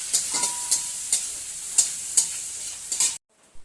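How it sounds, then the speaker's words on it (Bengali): Raisins fry briefly in a hot pan, giving a bright, hissing sizzle with regular light taps of a spoon roughly every half second. The sound cuts off abruptly near the end, leaving near silence. "কিশমিশটা খুব বেশি ভাজবো না"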